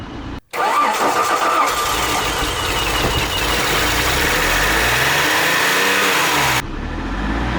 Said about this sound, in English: I just switched it off because it just revved up. But it did start.